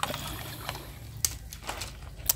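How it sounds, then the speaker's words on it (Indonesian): A potted aglaonema is watered generously in a very porous semi-hydro growing medium. Faint, soft trickling runs throughout, broken by a few brief splashy bursts. "lalu kita siram yang ini Jangan takut untuk menyiram banyak"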